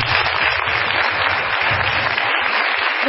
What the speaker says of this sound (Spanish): Recibimos con este fuerte aplauso